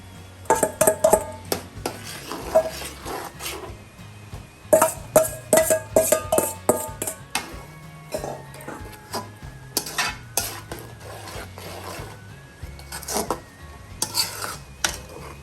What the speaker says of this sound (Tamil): நான் தேங்காய் வறுத்து வச்சுருக்கேன், அதை போடுறேன்.